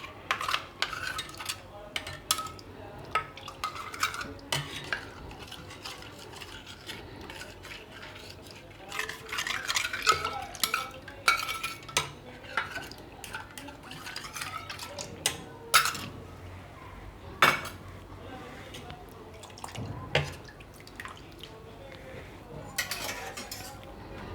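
A spoon stirs kadhi in a pot, giving repeated clinks and scrapes of metal against the pot with soft liquid swishing, close and fairly quiet.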